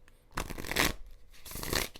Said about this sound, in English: Let's do a little bit more shuffling here.